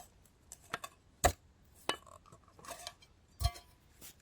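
A metal Trangia disc, used as a chopping board and drainer, clinks and taps as it is handled outdoors, several sharp close metallic knocks spread irregularly among quieter rattles.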